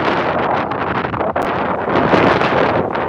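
Strong gusty wind buffeting the microphone, a loud continuous roar with rising and falling surges.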